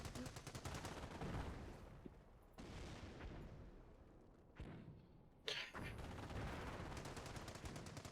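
A machine gun nest firing in Company of Heroes, bursts of rattling gunfire amid a busy battle soundscape, moderately loud, with brief drop-outs and a sharp bang near the end.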